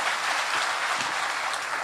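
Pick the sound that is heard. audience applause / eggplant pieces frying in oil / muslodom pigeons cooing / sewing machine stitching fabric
audience applause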